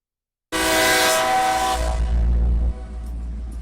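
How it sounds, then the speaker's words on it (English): Trains pass at an Indiana crossing, the train horn blaring loudly and steadily before fading into the deep rumble of rolling railcars. "that's the Indiana Trains video I did."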